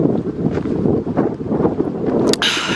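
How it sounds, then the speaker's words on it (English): Outdoor wind buffets a microphone near statues in Oldham, a loud, steady low rumble with gusty swells throughout and a brief rustle near the end. "trying to shield this wind"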